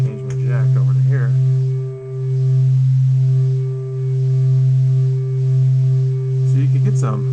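A steady synthesizer tone from an MFOS Wave Freaker wave folder folding a sine wave, with a strong low fundamental and stacked harmonics, its upper partials repeatedly swelling and shifting in slow cycles as the waveform folds.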